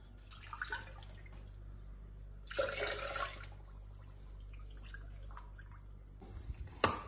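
Water poured into a pan while making teriyaki sauce, a faint splashing burst in the middle amid quiet kitchen drips and small clinks, no talking.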